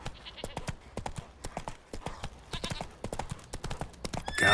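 Hooves of Roach, the horse in The Witcher 3, clip-clop in a brisk, steady trot, close and clear, with a short louder burst at the end.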